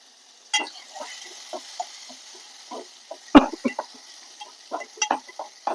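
Green chili, curry leaves and halved chopped tomato dropped into hot tempering oil with cumin and asafoetida, crackling in bursts of sharp spits and pops, with one loud splattering crack midway.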